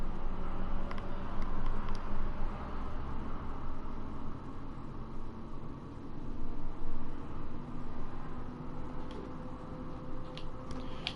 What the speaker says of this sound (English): so you might hear some outside traffic.